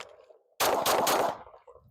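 Several pistol shots fired in quick succession at a shooting range with a Steiner MPS sight, loud and close, run together into one roaring burst before a short fading tail.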